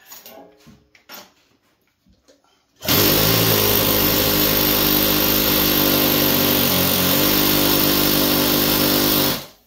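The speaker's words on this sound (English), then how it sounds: "raise the lift up a little bit" A Challenger low-rise car lift running as it is raised or lowered: after a few seconds of quiet clatter, a loud, steady mechanical whine and hum starts abruptly and holds for about seven seconds before cutting off, with no speech.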